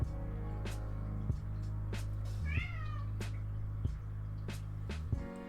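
A cat meows once, a short rising and falling call, heard faintly amid steady low hum and intermittent clicks in an indoor room.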